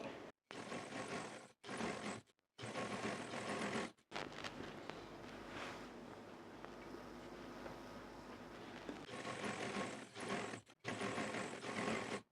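A sewing machine stitches pintuck seams on trousers in close, loud bursts, running steadily, stopping briefly several times and restarting, with a longer quieter stretch in the middle.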